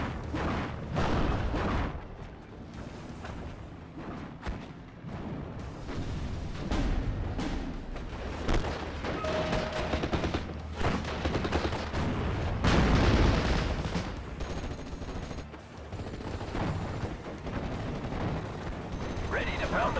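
Artillery fire booms repeatedly in the WWII game Steel Division: Normandy 44, dense rumbling shots and impacts layered over continuous battle noise, with occasional voices barking orders.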